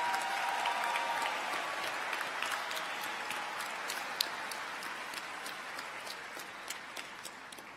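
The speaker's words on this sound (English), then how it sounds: "Class of 2023, please join me in a round of applause for these very special people in your" Applause from a large audience fills a university commencement ceremony hall, a dense, steady patter of clapping heard at a distance that holds evenly for several seconds, with no talk over it.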